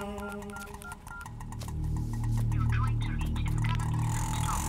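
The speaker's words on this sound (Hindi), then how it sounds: "ए, 90 को फोन लगा।" A phone keypad is dialed in a string of short electronic tones, one after another, over a low hum with background noise.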